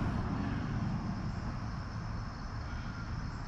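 A Honda FL250 with a 440cc two-stroke engine running poorly and badly in need of tuning, a steady, continuous droning roar held at moderate distance with no break.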